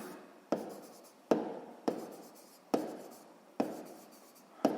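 A pen scratches out a math solution by hand on paper, five distinct strokes or words in a steady rhythm, each a crisp close scratch that fades quickly, with no talking.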